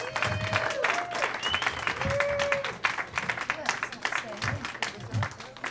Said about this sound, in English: Another good round of applause for Ms. Caroline Langford.